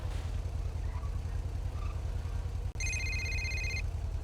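A telephone rings in a quiet mechanic shop with a low hum in the background, one short electronic ring burst sounding near and clear after a brief pause.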